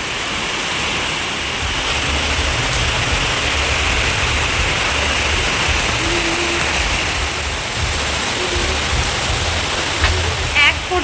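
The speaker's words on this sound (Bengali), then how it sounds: "এখন আবার এত জোরে বৃষ্টি শুরু।" Heavy rain pouring down outdoors, a loud, dense, unbroken roar of falling water close by, with a faint bit of sound at the very end.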